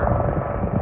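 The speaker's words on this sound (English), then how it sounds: "Helicopter" A rescue helicopter's rotor gives a brief, steady low rumble that carries close and continuous for under a second.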